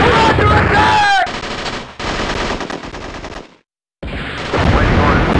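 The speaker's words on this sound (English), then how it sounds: "We're taking heavy fire!" Heavy automatic gunfire blasts in the 1998 PC video game WarGames, with loud, rapid bursts broken by short pauses and a brief full silence before the firing resumes.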